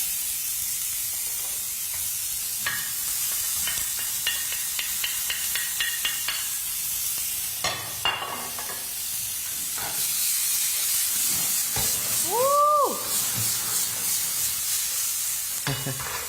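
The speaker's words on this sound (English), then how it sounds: "now we put the garlic and the onions that were chopped on the same pan" Chopped onions and garlic sizzle in a hot pan with a steady, soft frying hiss, broken by scattered clicks and scrapes of stirring and a brief tonal squeal near the end; no one speaks.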